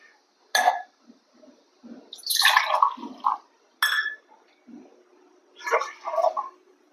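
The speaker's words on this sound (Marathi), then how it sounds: "आता डाळ घातली की लगेचच आपल्याला यामध्ये पाणी घालायचं आहे" Water poured in short gurgling bursts onto masoor dal in a pressure cooker, four or five separate splashy pours with quiet pauses between, close and fairly soft.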